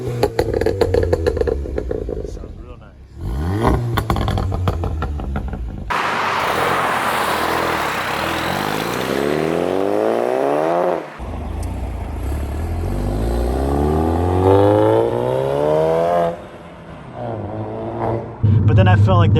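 A turbocharged VW GTI engine with an aftermarket downpipe revs repeatedly, pitch sweeping up through acceleration with a raspy, open exhaust note and some clattering, loud and close throughout.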